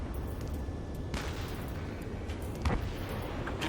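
Ace Combat 7 combat in a city under martial law: faint, muffled bursts of distant gunfire and explosions over a low, constant roaring rumble, with a couple of sharper thuds standing out.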